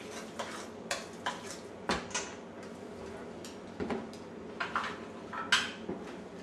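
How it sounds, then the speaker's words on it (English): Ingredients for gnocchi being mixed in a kitchen bowl, with scattered light clinks and scrapes of a utensil against the bowl, fairly quiet and irregular, with no talking. "Okay, mix it around."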